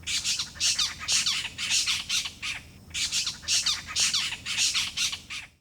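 A spotted owlet in Kerala gives loud, close squawking chatter in rapid repeated bursts, about a dozen harsh screechy phrases in steady rhythm with no other sound.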